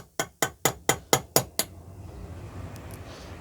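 A hammer taps seven times in a quick, even rhythm on a bushing in a Vauxhall Cavalier MK2 engine, sharp metallic strikes close by, followed by a quiet workshop background.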